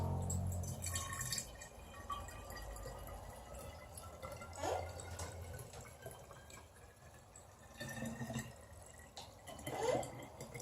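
Dandelion hydrosol poured from a container into small bottles without a funnel, a soft trickling and filling sound with a few faint drips and clinks, quiet and close in a calm room.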